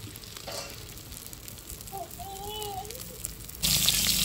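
Oil in a wok, heated before pointed gourd goes in, stays quiet at first, with a faint whine in the middle, then bursts into a loud, close sizzle near the end.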